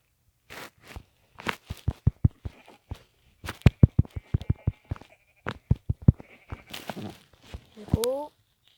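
Sheep bleat in the video game Minecraft, closing with one clear synthetic bleat. Before it comes a long run of sharp, rhythmic clicks and crunchy taps with gaps of silence between them.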